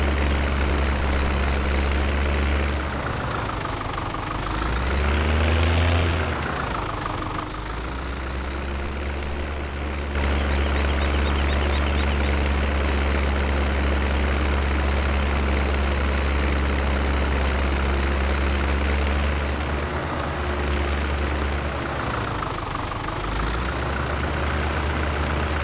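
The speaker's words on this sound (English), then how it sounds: "I'm getting that dang tractor stuck on it." A tractor used for moving snow idles steadily, its low, rumbling engine close and constant, with brief surges in revs now and then.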